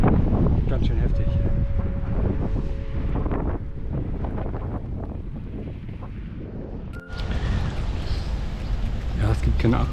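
Strong wind gusting against the microphone on an uphill coastal bike ride near water and wind turbines, a loud continuous rumbling buffet with a few voice fragments mixed in.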